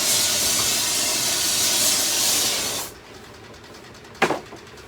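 Steam hisses loudly and steadily during lost-wax casting of a gold pendant, then cuts off abruptly, leaving a quiet room with one brief sharp clatter soon after.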